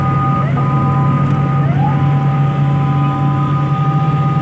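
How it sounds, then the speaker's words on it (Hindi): An ambulance siren wails steadily amid loud, rumbling road traffic, with engine drone underneath and the siren tone sliding as it passes. "एम्बुलेंस आ गई है, एम्बुलेंस को जगह देनी चाहिए"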